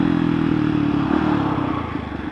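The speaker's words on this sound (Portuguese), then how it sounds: "Vai ficando com esse primeiro teste aqui da moto depois de remapeada." A remapped motorcycle engine with an aftermarket exhaust runs steadily up close, a loud, continuous low throb with slight revving swells and no talk over it.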